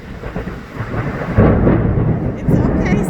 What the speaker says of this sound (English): It's just a little thunder.